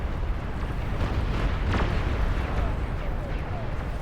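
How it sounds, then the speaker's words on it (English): Nukes in the real-time strategy game Beyond All Reason go off in a dense, continuous rumbling barrage of overlapping explosions with deep booms and crackle. The wall of noise stays loud and unbroken throughout. "A wave of nukes is coming out."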